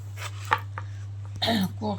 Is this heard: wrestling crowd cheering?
no